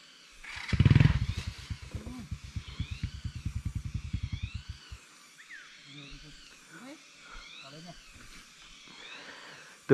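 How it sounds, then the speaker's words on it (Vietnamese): A motorcycle engine labors on a steep, slippery hill climb, starting with a burst then revving in a rapid pulsing chug for several seconds before fading, while a voice talks. "từ sáng đến giờ khoảng 3 tiếng đồng hồ chạy xe máy ròng rã và vài chục con dốc như thế này"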